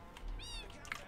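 A short in-game Minecraft cat meow sounds once clearly, followed by a brief second squeak near the end over a soft background murmur.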